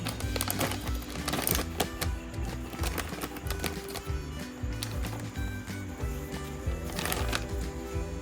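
A Baby Three Macaron blind box being unwrapped: steady crinkling and rustling of plastic and paper packaging, close and continuous for several seconds, with no talking.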